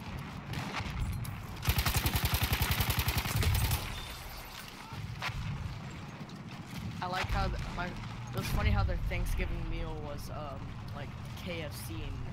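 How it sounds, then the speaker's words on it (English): Gunfire in the first-person shooter Battlefield 1, with bursts of rapid automatic fire and scattered shots mixed with battlefield noise and a talking voice throughout. "they're shooting at me, Ricky Bobby"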